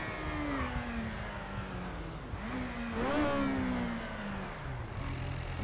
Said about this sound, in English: the bike sounds so good